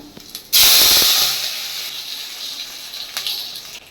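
Spices dropped into hot oil for Bengali phoron tempering burst into a loud sudden sizzle that quickly settles into a softer, steady crackling hiss.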